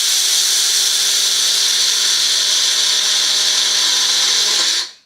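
Electric seed grinder running close by, a loud, steady high-pitched motor whir with grinding that holds evenly for nearly five seconds, then winds down abruptly to silence as it is switched off.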